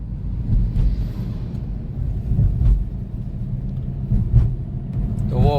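Car driving on the Samruddhi Mahamarg highway, heard from inside: a steady, loud low road rumble with engine drone and faint wind, no talking.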